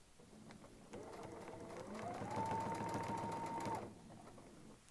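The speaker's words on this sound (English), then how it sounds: "Let's put some little tacking stitches in right there." A sewing machine runs a short burst of tacking stitches, its motor whine rising in pitch and holding steady for a couple of seconds before stopping, fairly close and alone.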